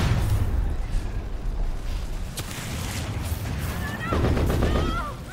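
A minigun in the video game Earthfall fires in sustained rattling bursts amid layered battle noise, with dense chattering gunfire swelling again near the end while a voice talks over it.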